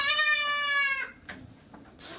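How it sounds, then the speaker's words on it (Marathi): A castrated goat at a goat farm lets out one loud, close bleat lasting about a second, followed by quiet scuffling and faint farm background. "आता बघा हा खस्सी आहे"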